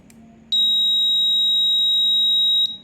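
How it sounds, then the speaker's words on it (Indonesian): A piezo buzzer on a microcontroller circuit sounds one steady, loud, high-pitched electronic tone for about two seconds, starting and stopping abruptly over a faint background hum. "Oke, buzzer menyala ya."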